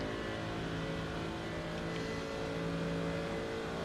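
Steady engine drone of GT3 race cars on a track in a racing video game, a continuous mid-level hum with no distinct pass-bys, heard alone without talk.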